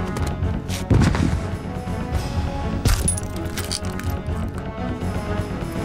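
Gunfire aimed at a monster in Resident Evil 2, with a cluster of sharp reports around the middle and a second heavy blast shortly after, all layered over dense game sound effects and music.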